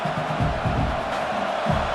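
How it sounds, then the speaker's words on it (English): Stadium crowd noise in the College Football 26 video game, a loud, steady roar of many voices with rumbling swells, continuous across the stretch. "It's early, but this crowd is fired up. Listen to this noise here."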